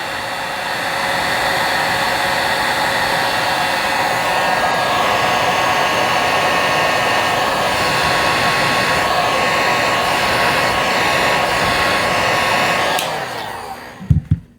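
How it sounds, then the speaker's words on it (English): A handheld hair dryer blows steadily at close range for about thirteen seconds, a loud continuous rushing whoosh, then cuts off, followed by a couple of soft handling knocks. "So use a hairdryer instead."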